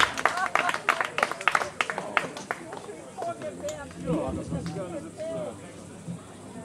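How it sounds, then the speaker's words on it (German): An audience at a live concert claps in a burst of scattered applause that fades within a few seconds, leaving murmuring voices and light room noise. "Applaus."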